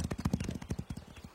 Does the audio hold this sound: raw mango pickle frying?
no